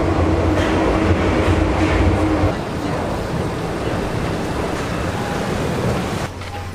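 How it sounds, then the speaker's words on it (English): A metro train rumbles through a Paris metro station, a loud steady roar that eases after a few seconds into a lower continuous rush with faint squeals. "Now we're at the metro station, about to buy some tickets"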